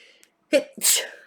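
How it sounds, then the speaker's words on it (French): A single sharp sneeze up close, with a quick inhaled gasp just before the loud burst, then quiet. "Je vais éternuer."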